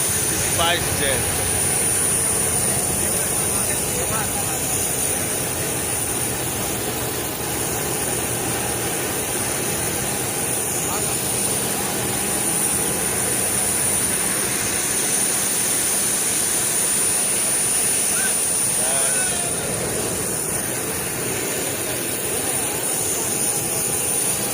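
SpiceJet airliner jet engines running steadily on a flight from Mumbai to Gorakhpur, a constant loud whine and rumble through the whole stretch, with voices talking over it.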